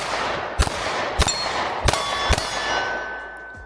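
Pistol shots at an outdoor range from a Shield X or Hellcat Pro Comp, four sharp reports at roughly even intervals, each ringing with a metallic clang, no talking.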